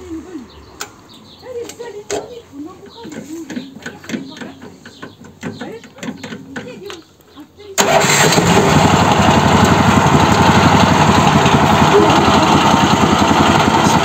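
Homemade articulated minitractor with a 17 hp engine: several cranking attempts among clatter and talk, then the engine catches and runs loud and steady at close range.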